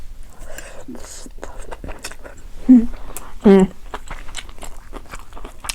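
Someone eating stir-fried egg with mushrooms at night, with close, soft crunching bites and chewing mixed with murmured talk and small mouth noises.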